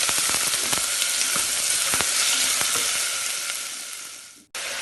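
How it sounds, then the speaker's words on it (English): Steady, close sizzling of finely cut onions frying on a low flame in a pan, with occasional pops and scrapes of stirring, cutting off abruptly near the end. "Then add the finely cut onions and fry in low flame into a golden brown color"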